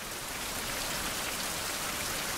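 Rain falling in the survival video game Survival: Fountain of Youth, a dense even patter of drops on surfaces that stays steady and loud throughout, with no talking.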